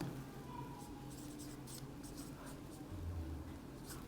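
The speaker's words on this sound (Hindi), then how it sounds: "तो पुस्तक को अपन रेड लाइन से, रेड मार्कर से लिखेंगे फिलोसोफी" Soft scratchy strokes of a red marker writing a word on a board, short squeaky bursts in an uneven rhythm over steady background hiss, with a low voice murmuring faintly underneath.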